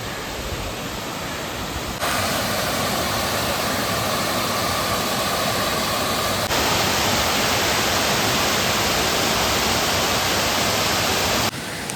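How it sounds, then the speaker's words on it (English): Waterfall in a gorge roars as a steady, dense broadband rush, swelling louder in stages as it is approached, with no voices over it. "Oh, waterfall, let's go."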